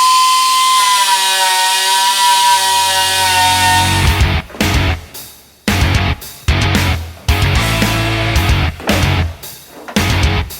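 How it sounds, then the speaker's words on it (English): A power grinder spins up with a high whine, then bites in repeated short bursts as it strips paint from a car roof panel, loud and close with brief pauses between passes. "We just need to grind that paint off, okay?"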